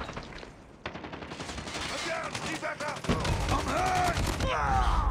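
Rapid automatic gunfire in the mobile shooter Call of Duty Mobile during a team deathmatch, a rattling stream of close shots that grows louder midway, with other game sounds mixed in.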